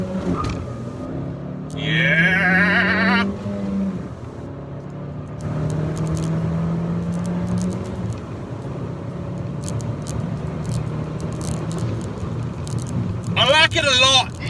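2017 Honda Civic Si accelerating hard from a standstill toward 60 mph, engine note climbing and dropping at gear changes, heard from inside the cabin with a few brief exclamations from the driver.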